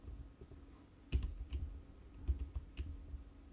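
Computer keyboard keys pressed for a Ctrl and 2 shortcut, a handful of soft, close clicks spaced irregularly and faint in a quiet room.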